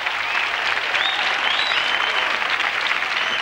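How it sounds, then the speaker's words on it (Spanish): A crowd at a 1992 Spanish copla gala claps steadily and loudly without pause, a dense sustained round of applause. "Un aplauso también para estas bellezas que están detrás"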